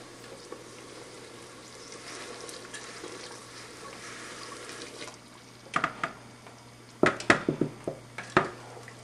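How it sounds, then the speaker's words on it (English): Blackberry mint jelly simmers in a pot with a steady soft bubbling hiss, then sugar is stirred in with a burst of sharp scraping strokes and clinks against the pot, close by with no talking. "I'm going to go ahead and add in my 4 cups of sugar and dissolve this down"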